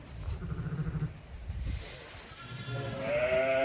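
Sheep ewes bleat faintly during lambing, outdoors in cold, windy weather, with wind hiss and a few bleats rising near the end.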